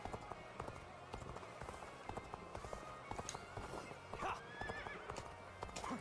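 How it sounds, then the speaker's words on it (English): Horse hooves clip-clop at a run with a clear neigh, in the video game Dynasty Warriors: Origins, busy and steady amid game effects, with a brief voice. "My new horse."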